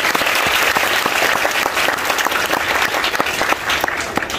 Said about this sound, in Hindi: एक दफा फिर इनके लिए तालियां बजाएं।